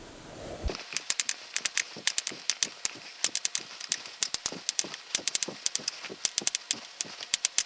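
A knife chops shaved Brussels sprouts on a cutting board in quick, sharp, evenly paced taps, close and clear, following a brief scrape at the start.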